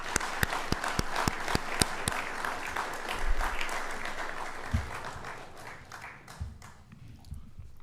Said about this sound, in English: How about another round of applause for Andy?